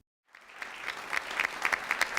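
An audience at the ASME DiscoverE Educator Awards breaks into applause after brief silence, clapping swelling quickly and holding strong with a few sharper claps standing out.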